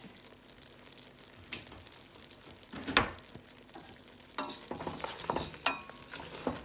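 Ginger and hot pepper are stirred in a cooking pot, giving quiet scraping and clattering strokes with a faint sizzle underneath and a few sharper clinks, fairly close and soft overall.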